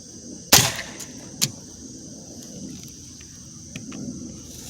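An air gun fires with one sharp crack, then a second, quieter shot about a second later, each ending in a short thud. Faint insect-like hiss and a low rumble fill the rest.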